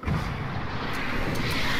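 A grenade blast in Fortnite Battle Royale, heard as a muffled, rumbling boom that rolls on steadily and fairly faintly through the whole moment, with no voices.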